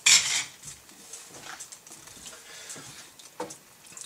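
Egg noodles stirred through homemade chicken soup in a pot, giving a loud metallic clank at the start followed by quieter scraping and light clinks of the utensil against the pot.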